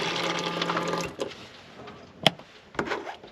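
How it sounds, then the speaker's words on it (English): A small water pump whirs and water runs from the sink tap in a Peugeot Expert campervan conversion for about a second, followed by a few knocks and clunks. "Let's flip that on, and then this should have running water."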